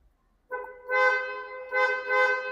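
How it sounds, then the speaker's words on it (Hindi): A German Audi car horn fitted to a modified Honda City sounds in three close, loud honks: a short toot, then two longer blasts after brief pauses. "सो जब मैं ऐसे में हॉर्न मारता हूँ, ये देखो, ये है German horn from the car Audi"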